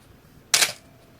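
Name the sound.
Canon AE-1 35mm film SLR self-timer firing the shutter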